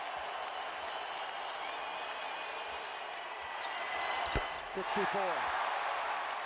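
A basketball arena crowd at a Lakers versus Raptors game cheers and applauds in a steady roar that swells toward the end, with sneaker squeaks on the court and a commentator talking over it.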